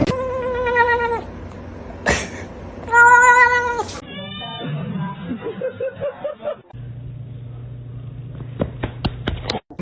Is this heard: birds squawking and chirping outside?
no